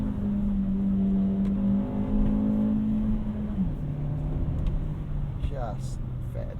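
A 2021 VW Golf MK7 with a six-speed manual, engine droning steadily from inside the cabin, then the pitch drops as it shifts down. Loud and close throughout, with someone talking over it.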